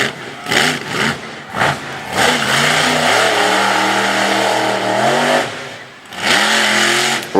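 A monster truck engine at a Woodstock, Virginia monster truck event roars loudly and close, rising and falling through several hard revs, then holding a sustained high-pitched howl before one final surge.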